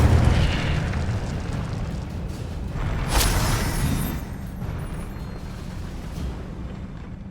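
The Incendio fire spell is cast in the Hogwarts Legacy video game: a loud, rumbling burst with a sharp whooshing flare midway, then a long roaring tail that slowly fades.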